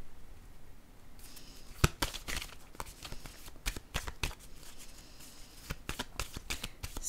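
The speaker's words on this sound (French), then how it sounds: "Je vais déposer une carte pour l'ensemble de celle-ci." Tarot cards are handled during a card reading: a dry patter of cards being shuffled, dealt and laid down, with clusters of crisp flicks and slaps at close range and no voices.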